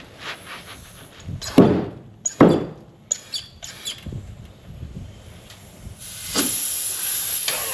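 An air bag inflated behind a rolled Scout's fender to pry it out: sharp hissing bursts of air in short pulses, then a steadier rising hiss toward the end, close and fairly loud.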